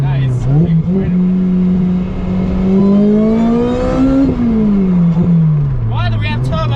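Supercharged car engine revving, with a loud, high supercharger whine that climbs in pitch and then falls away as the revs drop; the sound is close and sustained.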